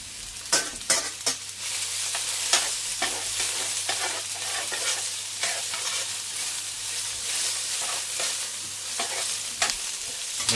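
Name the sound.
beef stroganoff frying and being stirred in a pan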